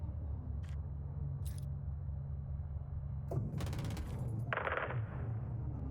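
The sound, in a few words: gunfire in Call of Duty Modern Warfare 2 video game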